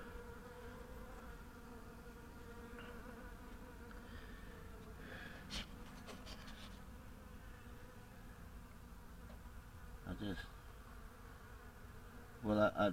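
A large honeybee swarm drones in a steady, dense buzz that fills the whole clip, with individual bees passing close at moments and a louder burst near the end.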